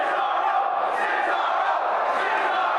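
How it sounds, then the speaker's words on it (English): A wrestling crowd at a HOG High Intensity 4 match between Samoa Joe and Chris Dickinson chants in unison for Cesaro, a steady, dense roar of many voices filling the arena. "A little Cesaro chant from the crowd."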